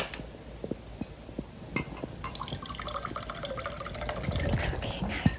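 Water runs from a tap in a steady stream that builds in loudness toward the end, with scattered drips and small clinks of objects around the sink.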